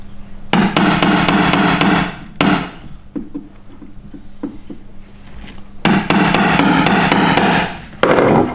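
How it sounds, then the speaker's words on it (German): A hammer strikes a center punch against the steel of an Opel Kadett E Caravan during a roll cage installation, giving sharp metallic blows in quick clusters of several hits, with lighter taps between the loud groups. "In der Hoffnung, dass das jetzt passt, werde ich jetzt körnen."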